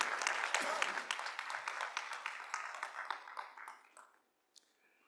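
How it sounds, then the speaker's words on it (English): Audience at a university graduation ceremony applauds steadily, loud and dense at first, then thins out over about four seconds and fades to a few scattered claps before silence. "A round of applause again."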